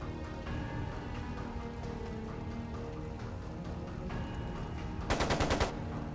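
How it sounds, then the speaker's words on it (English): A short, loud burst of rapid machine-gun fire in Trails of Cold Steel II, about half a second long, breaking out over a steady bed of background game sound. "It sounded like a machine gun."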